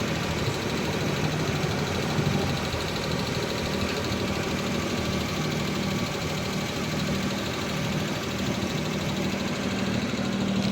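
A Maruti Omni engine idles after servicing, a steady, even mid-pitched hum with light vibration running continuously, close and alone without talk.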